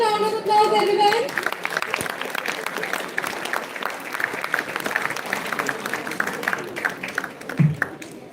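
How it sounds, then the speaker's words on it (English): Audience at an international conference on AI-driven intelligent systems for sustainability breaks into sustained applause, dense clapping filling the room for several seconds, with a brief tonal chime and voices underneath at the start. "Please give a huge round of applause, everyone."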